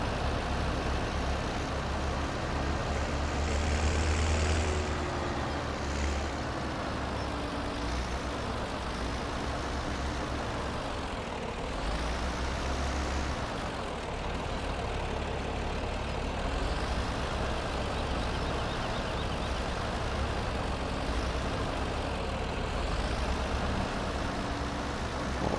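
A tractor engine in Farming Simulator 17 rumbles steadily and loudly for the whole stretch, its drone rising and falling slightly as the machine works hay with a loader, with no voices over it.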